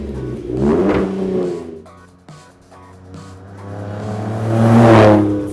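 A truck fitted with an AWE aftermarket exhaust revs up loudly, then drops back, its deep engine note swelling again into a second strong rev near the end.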